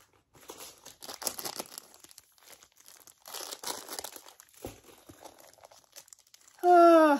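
Plastic packaging of a diamond painting kit crinkles and rustles close up in bursts, followed by a short sharp tonal squeak at the end.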